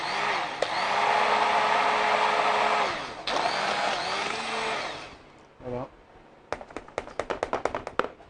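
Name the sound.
blender mixing raspberry compote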